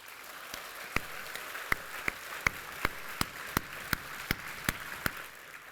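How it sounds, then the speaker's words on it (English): Scattered handclaps at a university awards ceremony, a steady sparse patter of about a dozen separate claps rather than a full ovation, fairly quiet and even throughout. "Please join me in another round of applause."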